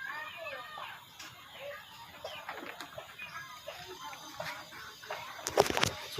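Chickens cluck softly in scattered short calls around a yard, fairly close but faint, with a louder burst of sound near the end.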